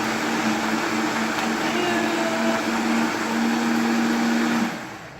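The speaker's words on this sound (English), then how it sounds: "So I'm going to start the Vitamix. It's going to be loud for a second." A Vitamix blender runs loud and close while making almond milk, a steady high motor whine with a constant hum that cuts off abruptly near the end, with no voices.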